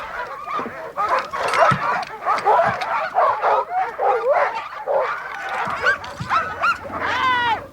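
Sled dogs bark and yip in a busy, overlapping chorus, with high whining and whimpering calls rising near the end, loud and continuous throughout.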